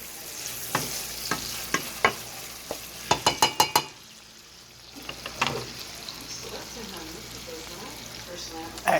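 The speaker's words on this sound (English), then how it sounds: "You're going to let this saute a little." Onions sautéing in a pan with a steady low sizzle, broken by a run of sharp clanks and scrapes of a utensil stirring, then a brief quiet before the frying hiss returns.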